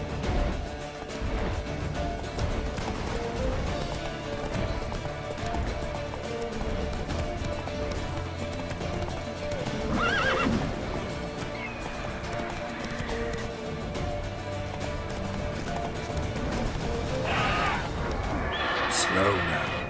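Roach, a horse in The Witcher 3, gallops with a steady drumming of hooves through a dense game soundscape, with a whinny late on. Voices talk over the running.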